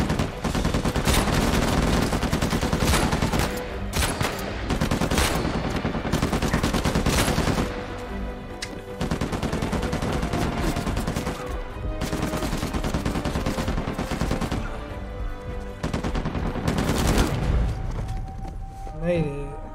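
Rapid rifle fire in Uncharted 4: A Thief's End, dense bursts of automatic shots in long stretches separated by short pauses, loud and close, with talking over the gunfire.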